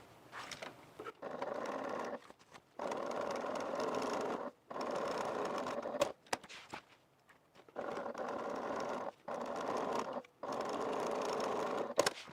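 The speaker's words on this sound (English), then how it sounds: "then top stitch on the right of the seam and to the left of the seam" A sewing machine top stitches along a faux leather bag seam in several bursts of rapid mechanical whirring, each a second or two long, separated by brief pauses, close and clear with no talk.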